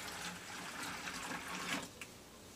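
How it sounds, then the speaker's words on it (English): Water poured into a cup of horchata mix made with almonds, four cups added in a steady, continuous splashing stream that stays close and fairly quiet, with no talking. "we're going to add additionally 4 cups of water"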